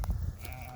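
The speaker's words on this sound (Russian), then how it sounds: "вон коза" A goat in a field bleats once, a short wavering harmonic call after some low outdoor rumble, heard from a modest distance.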